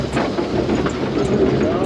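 A Pioneer Tunnel steam train locomotive runs along its track with a steady, close-up rumble and a soft hiss, plus faint rhythmic clicks from the rails, while nobody speaks over it.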